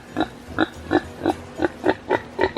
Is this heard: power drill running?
no